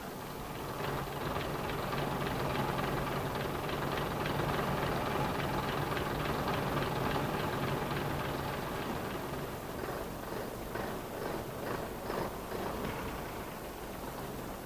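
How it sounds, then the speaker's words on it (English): A DMU diesel train engine idles with a steady, dense rumble and a rhythmic mechanical chug, loud and continuous throughout, with no voices. "The throttle must be held open until the engine will run at idling speed."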